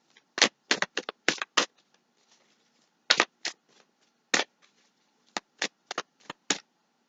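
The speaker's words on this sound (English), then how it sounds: "Just shuffle a little bit." Tarot cards being shuffled by hand, crisp riffling bursts in two quick clusters followed by scattered single flutters, close and fairly quiet with no talk.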